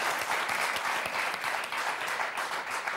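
A studio audience on the French TV game show Motus claps and applauds continuously for a few seconds, a dense, even wash of hand claps with no voices over it.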